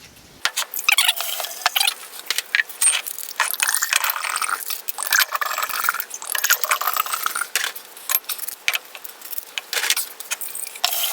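Captain Morgan coconut rum poured into a large jar for vanilla extraction, a continuous splashing, gurgling fill close by with clinking, rattly bursts throughout.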